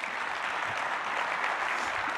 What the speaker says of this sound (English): let's give these people a fantastic round of applause